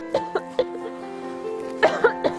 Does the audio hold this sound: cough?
yes